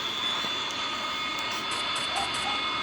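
A jet aircraft engine in the Roblox video game drones as a steady, loud, even roar with a high whine throughout, with no talking.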